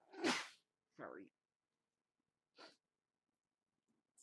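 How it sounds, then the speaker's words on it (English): A single person sneezing, one sudden, sharp burst up close, followed by a few short breathy sounds and quiet gaps. "Sneezes happen too, apparently."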